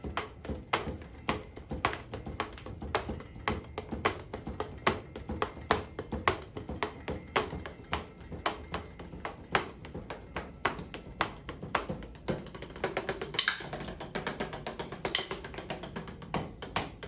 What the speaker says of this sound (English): You're hitting your sticks together is the loudest thing